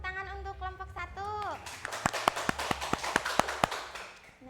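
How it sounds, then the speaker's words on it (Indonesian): A classroom group claps in applause for a student team during a microteaching maths lesson, a burst of quick, sharp, fairly close claps following a teacher's voice. "berikan tepuk tangan untuk kelompok 1"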